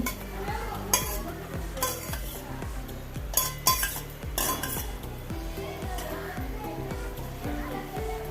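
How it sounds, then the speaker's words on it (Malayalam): Macaroni goes into a pan of vegetable masala and is stirred, with clanks of a spoon against the pan, wet scraping and a light sizzle, while someone talks over the cooking with music playing along. "ഇനി നമുക്ക് പാസ്ത ഇട്ട് കൊടുക്കാം അടുപ്പത്ത്"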